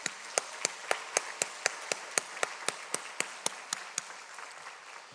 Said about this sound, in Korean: 우리 뜨겁게 박수해 주시기 바랍니다.